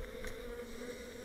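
A dense, steady drone of honeybees buzzing from an open hive being treated with oxalic acid on a cold day, close and continuous with a few louder passes near the ear.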